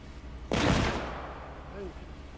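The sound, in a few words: gunshots from NPCs fighting in The Walking Dead: Saints & Sinners video game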